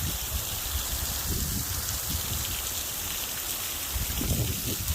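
The Fergosor waterfall in a village hamlet, partly frozen in cold weather, gives a steady broadband rush of falling water, constant and moderately loud, with low rumbling surges and nothing else over it.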